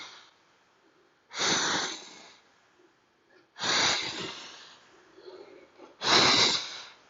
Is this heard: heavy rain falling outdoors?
no